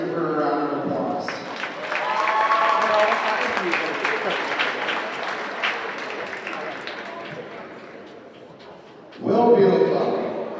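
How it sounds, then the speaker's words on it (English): Crowd applause in a school gym for a senior girls basketball player, clapping swelling under an announcer's voice, then dropping off before the announcer speaks again. "Let's give her a round of applause."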